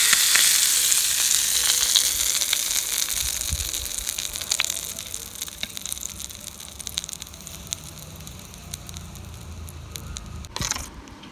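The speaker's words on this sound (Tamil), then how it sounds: "கடுகு போட்டு லைட்டாக பெருங்காயத்தூள் போட்டு கருவேப்பிலை போட்டு தாளித்து கொட்டிடலாம்" Mustard seeds, asafoetida and curry leaves hit hot oil for a tempering for drumstick greens thuvayal, setting off a loud hissing sizzle that slowly fades over several seconds, broken by scattered crackles and one sharp burst near the end.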